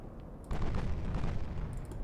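Naval shellfire and secondary battery guns in Ultimate Admiral: Dreadnoughts, Japanese super cruisers fighting battleships: a sudden heavy rumbling burst of distant gunfire sets in after a quieter stretch, then holds as a dense, continuous boom.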